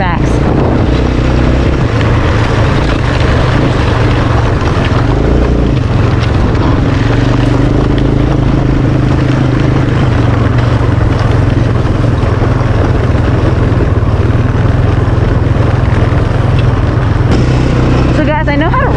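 Yamaha Raptor 700 ATV engine running steadily while riding in fifth gear, a loud continuous rumble with heavy wind buffeting across the whole stretch, and speech occasionally heard over it.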